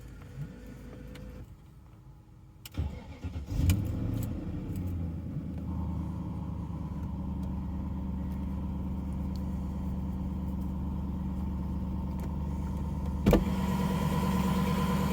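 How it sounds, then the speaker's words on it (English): A BMW E39 M5 wagon with a newly installed exhaust cold-starts, heard from inside the car: a short cranking burst, then a steady, loud, low idle rumble with a brief transient near the end. "So this is a cold start from inside the car with our new exhaust installed."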